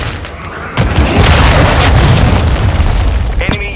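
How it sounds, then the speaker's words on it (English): A cruise missile launches in Call of Duty Modern Warfare 2 with a sudden loud boom that swells into a sustained roaring rumble, then tapers off, ending in a short electronic tone. "Hostiles launched a cruise missile."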